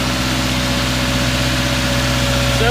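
A Subaru engine idles after a tune-up, running a little high with a steady, even hum that stays close and constant throughout.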